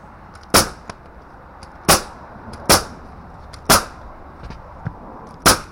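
A pneumatic nail gun fires while shingles are fixed on a summerhouse roof: five sharp, loud cracks at irregular intervals with fainter taps between, over quiet outdoor background and no speech.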